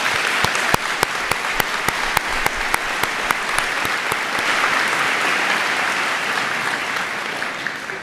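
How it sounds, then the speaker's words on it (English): Audience applause at a university fall convocation and award ceremony, sustained even clapping from a large hall crowd with a few sharp nearby claps standing out at the start. "And let's give them a heartfelt applause."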